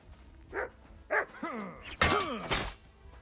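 Dog barking in the medieval game Kingdom Come: Deliverance 2, a few sharp, fairly close barks spaced over a couple of seconds, with some rougher howl-like yelps near the end.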